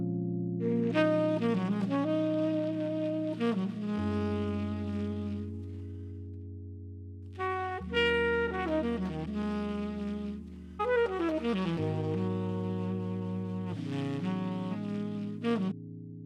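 A mellow Rhodes electric piano plays sustained chords while a saxophone weaves a melodic jazz phrase above, smooth and close, without any speech.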